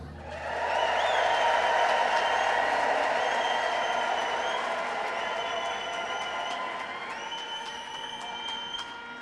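A church congregation ululates and cheers at a prophet's sermon, with sustained high trilling voices and crowd noise swelling loud, then slowly fading.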